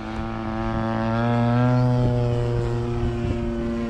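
Mikado RC helicopter with its rotor spinning, a steady droning whine holding a constant pitch, close and fairly loud, with no voices over it.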